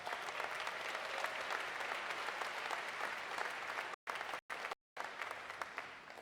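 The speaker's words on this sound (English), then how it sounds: "Let's give them a round of applause." Audience at a 2019 graduate commencement applauding sports teams from NCAA tournaments in men's lacrosse, men's golf and women's basketball: steady dense clapping from a large crowd, broken by a few brief dropouts near the end.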